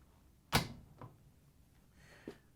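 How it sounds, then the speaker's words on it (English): An LG/Kenmore dryer door is closed, giving one firm thump followed by two faint lighter knocks in a quiet room. "Once you have the screws in, you can close the dryer door."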